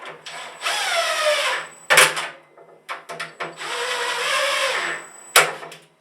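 An impact driver drives bolts into the base of a Craftex CT053 1 HP dust collector, two long whirring bursts with rapid hammering clatter, separated by short clicks and taps nearby.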